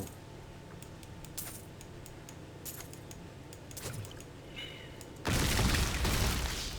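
In the action role-playing game Diablo III, a sudden loud explosion bursts in near the end, a broad roar following a stretch of quiet clinking item and loot sounds and game ambience.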